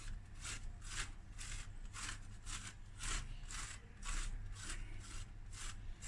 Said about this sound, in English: and you just grate.